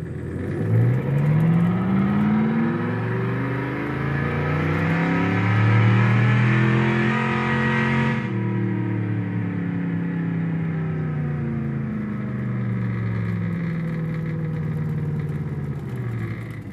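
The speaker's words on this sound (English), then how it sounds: "So I'm going to take and run the throttle up a little bit, and we can hear the car go." Synthetic engine sound for a Factory Five Mk4 electric car played through speakers as the throttle is revved, a loud, continuous engine tone that rises in pitch, eases back partway through, then rises again.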